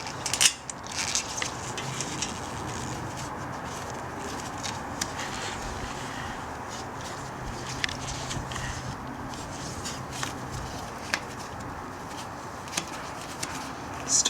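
A ratchet tightens the rear brake caliper bolt on a 2004 Audi A4, with steady mechanical clicking close up that runs the whole time.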